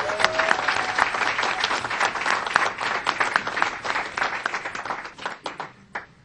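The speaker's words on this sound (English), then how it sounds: "a big round of applause for Walter" Applause from the audience at a press conference: sustained, fairly close clapping from a modest crowd that thins out and trails off into a few scattered claps near the end.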